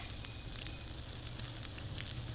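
Rat meat grilling over a charcoal stove gives off a soft, steady sizzle with faint crackles, low in level and unbroken, with no talk.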